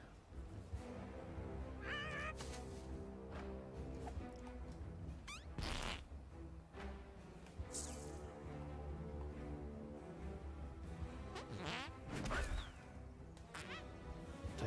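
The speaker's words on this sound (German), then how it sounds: "Da ist doch aber eine Katze drinne." Cat meowing in the video game South Park: The Fractured But Whole, a few short meows heard amid game sound effects, thumps and background music, with no talk.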